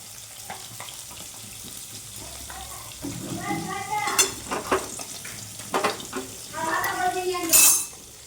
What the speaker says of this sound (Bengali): এই যে কড়াতে তেল দিলাম দেখুন